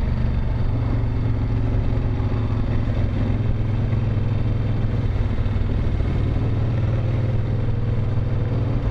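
A 1970s Moto Guzzi California cruiser's engine runs steadily, a low throbbing idle with mechanical clatter, close and continuous with no talking.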